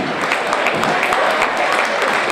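Guests at a 2013 champions' awards evening applaud steadily in a hall, a close, continuous roar of clapping hands with no pauses across the brief stretch.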